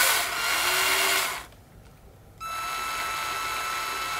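A power drill running during a repair of Sennheiser headphones, a steady high whine for over a second, a brief pause, then a second sustained whirring burst, close and fairly loud.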